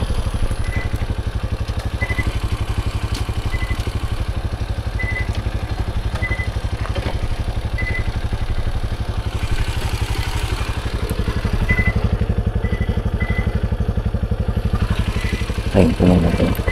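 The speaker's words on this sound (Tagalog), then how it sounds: "Tayin ko lang itong motor guys." A motorcycle engine idles steadily nearby with an even, throbbing rumble throughout, joined by a faint clatter and a small knock near the end.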